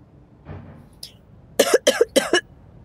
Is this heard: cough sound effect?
yes